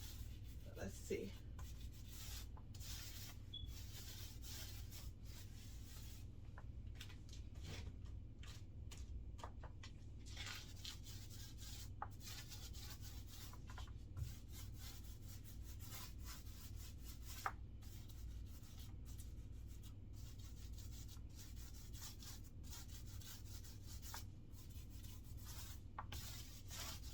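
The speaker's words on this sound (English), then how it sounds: "I'm going to roll it and then I'm going to come back through with a brush to smooth it out." A paint roller rolls paint onto a wooden side table with a soft, continuous, faint rubbing and squishing sound, close and steady, over a low background hum.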